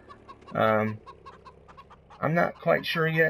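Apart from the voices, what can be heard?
hens clucking in Farming Simulator 15 video game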